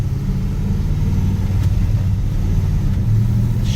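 A 1967 Chevrolet Malibu with a swapped LS3 V8 driving along, a loud, steady low engine rumble heard from inside the car, with no talk.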